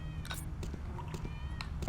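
Cat meowing inside the video game Tales of the Neon Sea: several short, faint meows spread across a steady low game background hum, with a soft voice in places.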